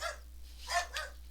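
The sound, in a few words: dogs barking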